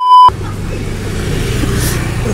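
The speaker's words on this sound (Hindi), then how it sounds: "हम भी आज शर्मा जी की खटारी में जा रहे हैं" An old, rattly car drives along with a steady engine and road rumble, heard from inside amid traffic noise. A brief electronic beep tone comes just before it.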